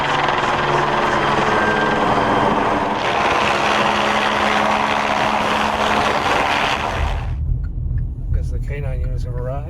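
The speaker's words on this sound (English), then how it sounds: "That's a camera, a TV helicopter." Steady broadband rotor roar of a TV news helicopter overhead, loud and continuous, with a voice talking over it before the noise shifts and fades.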